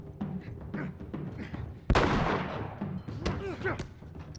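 A single loud gunshot rings out during a tense fight against enemies in The Last of Us Remastered. Sharp crack with a decaying echo, set among game sounds and muffled voices, with quieter thuds following.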